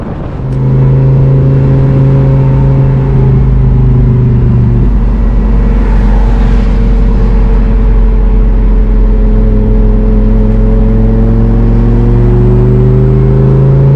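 Orange Lamborghini convertible cruising with the top down, a steady, loud engine drone with smooth tonal harmonics that shift as it changes gear midway, plus constant wind rush throughout with no talking.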